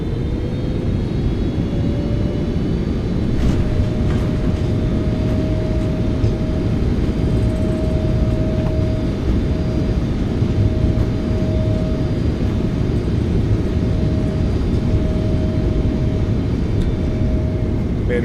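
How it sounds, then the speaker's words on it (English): In a flight simulator, a PMDG 777-F freighter has its thrust reversers deployed after landing at Baku, producing a loud, constant engine roar with a steady tonal whine throughout the rollout deceleration. "Nose down gently. Reversers are out. Decelerating."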